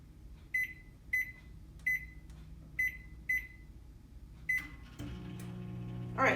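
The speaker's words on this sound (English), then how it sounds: "take this bowl and put it in the microwave" A microwave oven heating a big potato for a ten-minute run gives a series of six regularly spaced beeps as buttons are pressed, then starts with a steady low hum and rattle close by, with no talking.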